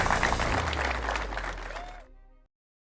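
An audience applauding at a White House press event after an oath ceremony, dense sustained clapping that fades out after about two seconds.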